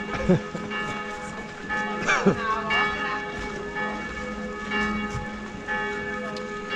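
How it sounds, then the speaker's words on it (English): Church bells ringing at the Einsiedeln Christmas market in Switzerland, a sustained layered peal of tones hanging over a busy outdoor crowd, with some voices and movement underneath. "if you'd like to hear a few more minutes of bells, you can hit rewind and start from the beginning of these"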